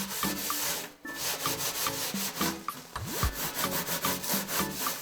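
Scrubbing inside a domestic oven after applying Mr. Muscle oven cleaner: steady, close rubbing strokes in a repeated back-and-forth rhythm, loud and continuous with brief pauses, no talking.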